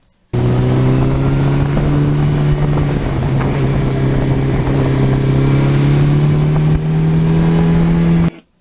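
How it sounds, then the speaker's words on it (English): A 38-year-old Suzuki GS1100E motorcycle engine runs steadily with a loud, close droning hum, its pitch rising slightly as it goes, with no voices. "And it's a beautiful classic sound of motorcycling."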